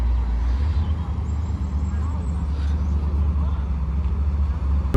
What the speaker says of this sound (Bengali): ওদের গাড়ির আওয়াজ আমি পাচ্ছি অলরেডি, এসে গেছে।